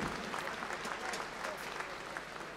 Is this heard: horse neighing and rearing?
no